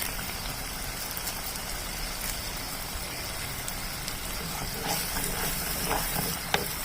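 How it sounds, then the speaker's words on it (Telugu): Curry leaves sizzling in hot oil while minced mutton keema cooks, a steady close hiss and crackle that runs without a break, with faint stirring clinks and no talking. "దీంట్లో కరివేపాకు వేసుకుంటున్నాను"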